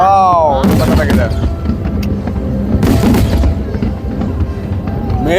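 A Hong Kong fireworks display booms and crackles in loud, repeated bursts over a noisy crowd, with whistling rockets rising between explosions and people cheering and talking.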